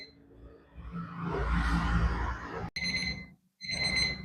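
An oven timer beeps in short bright tones after a stretch of rushing fan noise, the beeps coming in two bursts separated by a brief silence.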